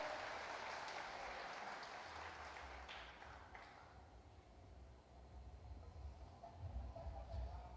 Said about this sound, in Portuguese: Dê um aplauso para o Senhor agora.